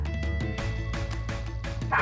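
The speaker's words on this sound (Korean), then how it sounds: "보통 손님들 오면 이렇게 좀 많이 짖고" A dog barks repeatedly at arriving guests indoors, rapid loud close bow-wow barks with yips and whimpering mixed in, nearly continuous throughout.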